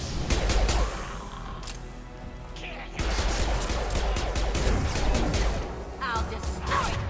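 Rapid bursts of gunfire in the sci-fi shooter game Mass Effect 2, loud and continuous with crashing impacts, while a player shouts over the action.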